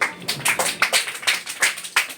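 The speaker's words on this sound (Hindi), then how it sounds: "इसी बात पे ताली बजाओ" A group of students clapping in a classroom, a loose series of sharp handclaps in an uneven rhythm, moderately close and heard alone without talk.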